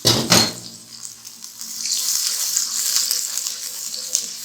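Water pours steadily from a cup into a pan of browned malai chicken masala, a continuous splashing hiss that follows a couple of sharp clinks and lasts several seconds.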